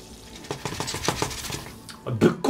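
Bacon and eggs fry in a pan in the video game Arctic Eggs, with a run of clinking pan and utensil hits over faint sizzle, ending in a couple of louder knocks.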